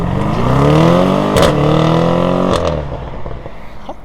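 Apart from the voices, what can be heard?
BMW M850i engine driving at high speed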